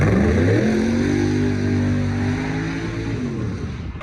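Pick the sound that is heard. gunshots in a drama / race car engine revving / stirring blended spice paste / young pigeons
race car engine revving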